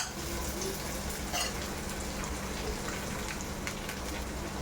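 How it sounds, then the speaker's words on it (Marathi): Capsicum, finely chopped cabbage and onion sauté in a pan for paneer momos, giving a faint, steady sizzle with light stirring scrapes and no talking. "हे छानपैकी आपण दोन तीन मिनटं परतून घ्यायचं आहे"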